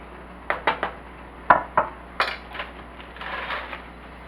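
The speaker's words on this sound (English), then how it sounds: "I'm going to stir them a few times just so they won't stick together." Dry Creamettes macaroni being stirred in a cooking pot with a spoon makes a handful of irregular, close clacks and scrapes against the metal, then a softer rattling swirl, with no talking.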